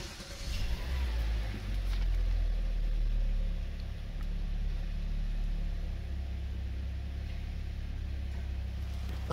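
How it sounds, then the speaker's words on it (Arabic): A 2024 Hyundai Kona with a naturally aspirated 2.0-litre engine starts by push button, giving a brief, louder rise at startup before settling into a low, steady idle hum that runs quietly for several seconds. "أسمعكم الآن صوت تشغيل هيونداي كونا."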